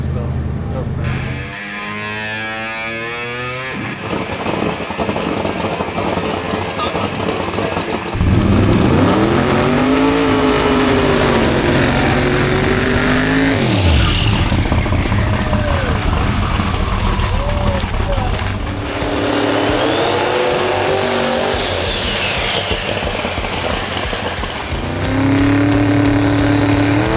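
Race car on a test run, idling with a rough engine note before revving and accelerating in repeated rising and falling sweeps, loud and close, with people talking between runs.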